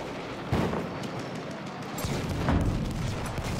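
Gunfire in Battlefield 1 on the Lupkow Pass map, broad booming shots and rumbling echoes at a distance, a few heavier blasts over constant battle noise with no one speaking.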